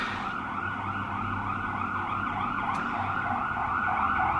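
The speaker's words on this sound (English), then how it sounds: "There's another siren going by." An emergency siren passes outside, a steady wailing tone heard from indoors that holds throughout and swells slightly louder toward the end, with no talking over it.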